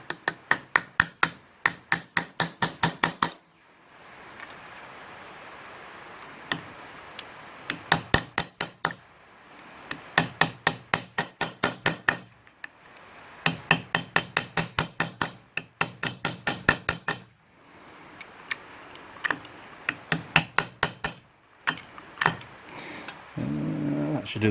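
A hammer strikes a chisel on a Yamaha TT250R motorcycle transmission in quick bursts of sharp metallic blows, each run of about ten to fifteen ringing hits separated by short pauses, loud and close.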